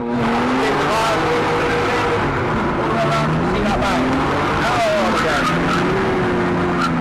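A Metro 6R4 replica's engine revs hard and wavers up and down while tires squeal during drifting, close and loud, with someone talking over the noise.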